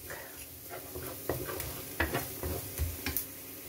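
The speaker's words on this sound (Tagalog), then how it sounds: "Gisa mo na yung garlic." Garlic sautés in a pan for a scallop stir fry with a soft sizzle, punctuated by several sharp scraping and tapping stirs of the utensil against the pan, close and fairly quiet.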